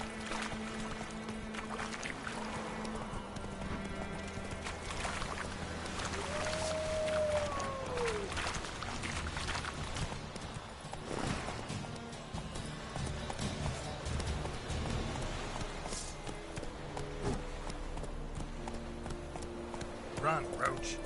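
A horse gallops in the video game The Witcher 3, its rhythmic hoofbeats running steadily for about twenty seconds under continuous game ambience and music, with a brief voice heard at moments.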